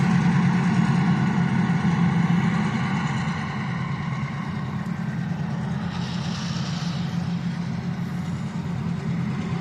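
A diesel locomotive engine idles steadily at close range, a continuous low rumble with a faint higher whine, unchanging throughout.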